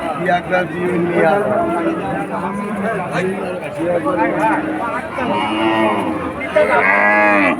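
Cattle lowing amid a busy crowd at a livestock market, with people talking throughout and the animals' calls rising over the chatter.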